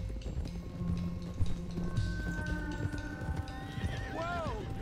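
Horses in Red Dead Redemption II clop along at speed with repeated hoofbeats, while loud whinnies and neighs rise near the end, all under characters talking.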